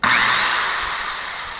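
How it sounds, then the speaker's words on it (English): A 1/2 horsepower, 5 amp corded power drill running off a power inverter whirs up to speed abruptly and runs at a loud, steady high-pitched whine close by. "and a 1/2 horse 5 amp drill"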